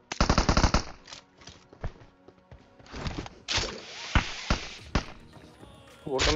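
PUBG Mobile gunfire on the Erangel map: a rapid burst of automatic fire opens the scene, followed by scattered single shots and impacts, with game sounds and players talking throughout.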